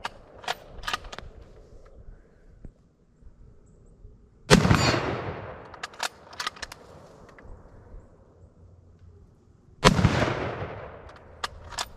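Two loud, sharp gunshots from a 6.5x52 Carcano 91 TS rifle fired outdoors, each followed by a long decaying rumble, spaced several seconds apart, with faint clicks and handling noises between them.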